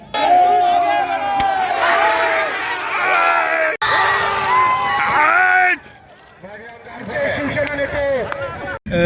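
A large crowd at a bullock cart race cheers and shouts loudly and close, with whoops rising and falling; a voice talks over the din throughout, with a brief quieter lull before the noise swells again.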